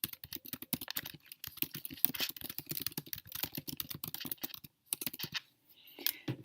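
Fingers type a reply on a computer keyboard, a close, rapid run of crisp key clicks with brief pauses and a few final taps.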